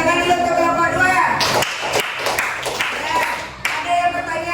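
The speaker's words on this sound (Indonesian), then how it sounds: "tepuk tangan dulu untuk kelompok 2" Classroom applause for a student presentation group, a burst of hand claps from the class starting partway through and carrying to the end, with talk heard around it.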